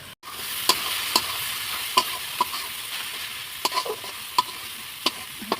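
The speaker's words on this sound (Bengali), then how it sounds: "আর এদিক দিয়ে পেঁয়াজটা ভালো করে ভেজে নিচ্ছি।" Onion fries in a pan with a continuous close sizzle, broken by sharp spatula scrapes and taps against the metal as it is stirred, about a dozen clicks spread unevenly, no talking.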